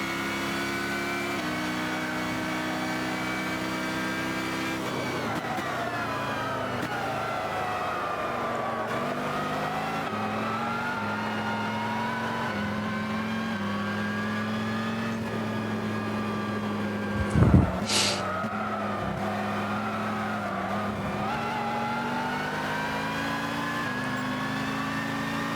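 GT3 and GTP race cars lap the Daytona circuit during qualifying practice, producing a continuous engine drone that rises and falls in pitch as cars accelerate and pass. A brief sharp sweep stands out midway, with no talking.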